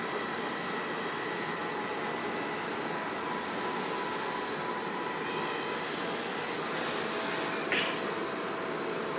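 An FPV quadcopter drone flying and hovering upside down outdoors, a steady high-pitched propeller whine and motor buzz, constant and fairly loud, with a brief pitch swell near the end.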